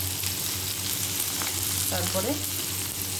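Chopped onion sizzles in hot oil in a pan alongside black cumin seeds, a steady close frying hiss throughout with faint stirring scrapes and a brief word spoken over it.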